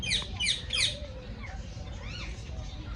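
Three harsh parrot squawks in quick succession at Ludhiana Zoo, some red-shouldered, loud and close, followed by softer chirps and calls against steady outdoor background noise.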